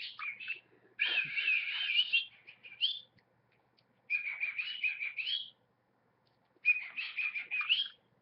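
An indoor pet bird gives three bright, warbling whistled phrases separated by silent pauses, clear and fairly close, as an answering call.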